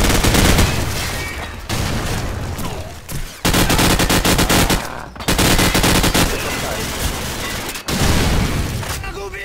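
Dense automatic gunfire rattles through a Call of Duty Frontlines Domination match on the Shipment map, loud and close, in long continuous bursts broken by brief gaps.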